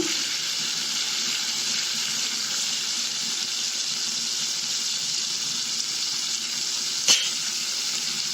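Brinjal pieces frying in oil in a pan for Andhra-style brinjal chutney, giving a steady close sizzling hiss throughout, with one brief clatter near the end.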